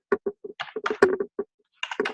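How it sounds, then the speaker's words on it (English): Keys clatter on a computer keyboard in quick irregular bursts of distinct clicks, close and clear, with a short pause before a final run of strokes. "All I'm doing is typing."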